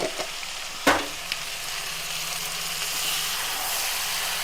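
Chicken with turmeric and ginger-garlic paste being stirred in a pan for chicken pulusu: a loud, continuous close sizzle with one sharp metallic clank near the start and a few soft scrapes after.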